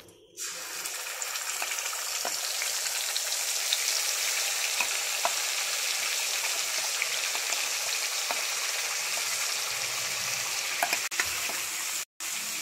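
Whisked yogurt hits hot oil in a pan while cooking doi katla, a Bengali yogurt fish curry, giving a loud, steady sizzle and crackle that fills the whole stretch, with a brief clatter and a short break near the end.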